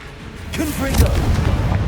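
Fiery Confringo spell blast in Hogwarts Legacy on PC, a loud booming burst that swells and rumbles for about a second, with a voice calling out over it amid continuing combat noise.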